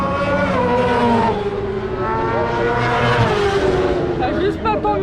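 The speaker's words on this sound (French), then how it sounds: "J'adore le bruit de la moto." Racing motorcycles scream past on a circuit straight during a French superbike club track day, loud high-revving engines rising and falling as several bikes pass close by, with brief talk underneath.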